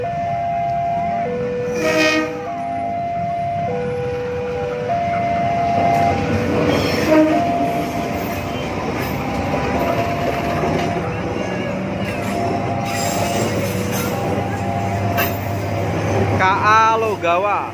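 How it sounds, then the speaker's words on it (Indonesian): A KA Logawa passenger train bound for Purwokerto rumbles past at a station in Indonesia, with a long sustained horn blast, steady rolling wheel clatter and a squealing screech near the end, loud and close throughout. "Nah, ini nggak tahu kereta apa ini yang lewat."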